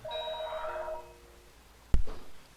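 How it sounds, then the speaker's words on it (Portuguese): A telephone ringtone plays a short melodic tone pattern that fades out, followed by a single sharp knock or thump near the end. "telefone de novo"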